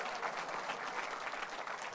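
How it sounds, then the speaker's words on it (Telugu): An audience at a Christmas celebration speech claps loudly and continuously, dense steady applause from a crowd throughout. "ఒకసారి కొట్టుండే గట్టిగా చప్పట్లు"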